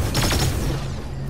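Gunfire from the Fortnite video game comes as a loud, fast burst of close shots that fade into a ringing tail.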